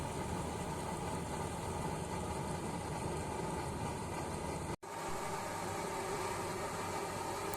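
A blower fan on a used engine oil stove runs on a low setting, giving a steady broadband whoosh with a low rumble. There is a brief dropout near the end, then the same steady rush returns.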